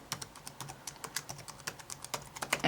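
Rapid, irregular key clicks on a computer keyboard as an email address is typed, close and crisp with no voices.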